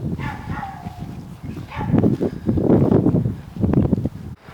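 Dog barks and yelps along a village walk near Dilwyn, several short bursts close by over outdoor background noise, with rustling between them.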